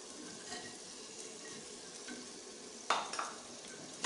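Beef liver masala, with whole spices added, frying in a pan in a home kitchen, with a quiet steady sizzle and a utensil stirring and scraping, plus a sharper clatter near the end. No voices.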